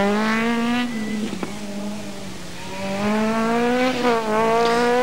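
A Renault Clio Maxi rally car in the 1995 Rali Vinho da Madeira howls along tight, twisty roads, its engine revving up, dropping on shifts and braking, then climbing again, loud and close with no talk.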